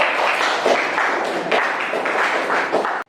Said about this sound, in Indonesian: Beri tepuk tangan kembali